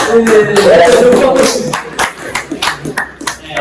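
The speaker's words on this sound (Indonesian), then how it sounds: "Ya, tepuk tangan." Students clap in a classroom after quiz results are announced. A voice speaks first, then scattered, uneven handclaps take over, close and irregular, thinning out toward the end.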